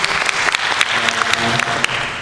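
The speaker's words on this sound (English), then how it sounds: "Please give yourself a round of applause." An audience at a 2022 graduation ceremony claps steadily, a dense crowd of hands applauding continuously for a couple of seconds.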